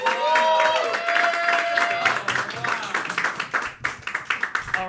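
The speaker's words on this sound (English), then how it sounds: "Please clap it up for the man" A comedy roast battle audience in New York claps and cheers for comedian John Ajodah, with dense applause that thins into scattered individual claps toward the end.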